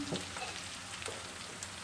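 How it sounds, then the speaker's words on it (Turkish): Long-sliced peppers go into a pan of frying onions for an olive-oil pea dish, producing a soft, steady sizzle heard faintly and alone, with a few tiny pops. "Şimdi biberlerini ekliyorum."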